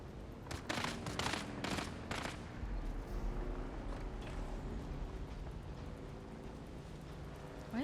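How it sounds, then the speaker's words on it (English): Gunfire in the video game Dune Awakening, a quick burst of several faint, distant shots early on, then a low rumbling background with no talk. "Why are they shooting at us?"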